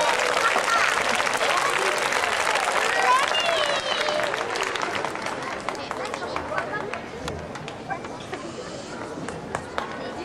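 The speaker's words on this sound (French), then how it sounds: "il faut l'applaudir très fort, il aime bien être applaudi" Loud crowd applause at a stage show fills the room, dense clapping with some chatter that gradually thins and softens toward the end.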